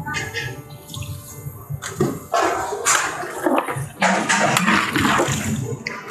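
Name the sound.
water poured into vegetable pot for undhiyu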